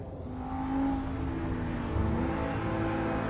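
An Audi R8 V10 Plus supercar engine drones steadily, a low, even hum with a faint tonal whine drifting up and down, moderately quiet and close, without speech.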